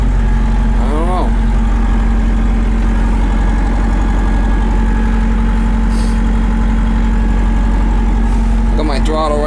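A Trackless MT5 utility tractor's engine idles steadily after starting, a loud, even low rumble running throughout, with a brief whine near the start and again at the end.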